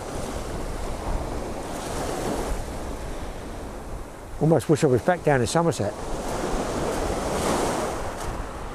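Surf breaking on a windy beach during a night of beach fishing, a steady wash of waves and wind buffeting close to the microphone, with someone speaking briefly in the middle.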